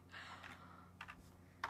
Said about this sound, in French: Je sais écrire sur du clavier,